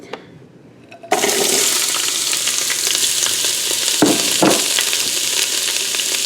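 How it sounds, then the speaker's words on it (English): Onions and peppers hit olive oil in a hot pot after a quiet second, bursting into a loud, continuous sizzle that stays strong, with a couple of brief stirring scrapes near the end. "add in some olive oil, and then we will saute our onions and peppers"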